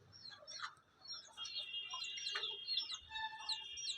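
Chickens and a rooster at a farmyard, quiet scattered clucks and chirping calls at a distance over faint background ambience, with no voices.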